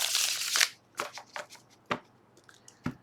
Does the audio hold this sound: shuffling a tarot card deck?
yes